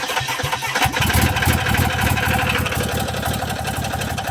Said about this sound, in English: get in the truck and let's get it started